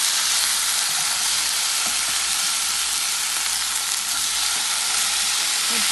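A steak searing in a pan, with a loud, dense, unbroken sizzle, close up and constant throughout with faint stirring scrapes underneath and no speech.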